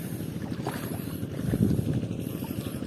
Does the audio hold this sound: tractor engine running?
yes